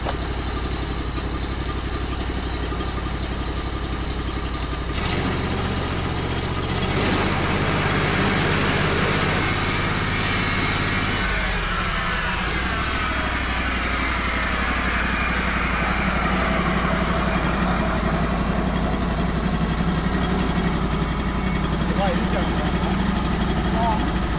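Idling engine of a Hardwood Mill GT34 sawmill cutting Australian stringybark, a steady loud low drone that shifts pitch briefly around the middle and then settles, with speech faintly audible over it.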